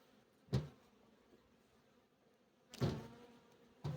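Honeybees return to their hive at a queen-rearing apiary, individual buzzing flights swelling close past at irregular intervals over a quiet, faint background drone.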